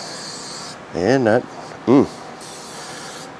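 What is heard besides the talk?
spraying cooking spray on chicken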